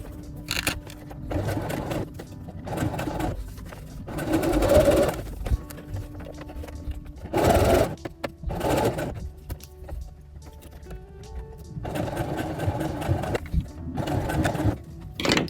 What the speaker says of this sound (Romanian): o să fac o cusătură simplă, să o aplatizez pe cea surfilată